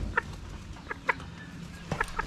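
A golden hen with her three-week-old chicks, heard as soft intermittent clucks and short chirps close by, scattered in small clusters over a low background hum.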